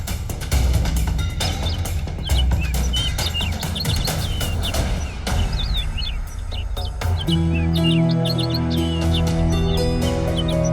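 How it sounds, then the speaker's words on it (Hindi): A small bird chirps and tweets repeatedly throughout a Hindi TV drama scene set around Shirdi, its bright calls layered over a steady backdrop of music and other sound. "ये चिड़िया बहुत देर से आपको आगाह करने की कोशिश कर रही थी"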